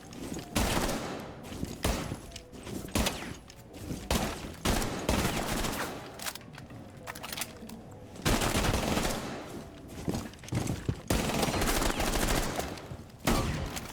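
Rapid gunfire rattles through a Rainbow Six Siege match on PC, dense bursts and single shots crowding together, loud and continuous with brief gaps.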